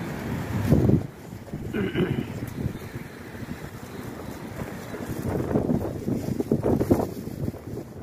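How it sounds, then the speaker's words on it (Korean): Cold wind blowing in uneven gusts, buffeting loudly at the start and again near the end, with a rough, blustery rush and a faint voice underneath. "바람이 찬바람이 수산하게 부는데"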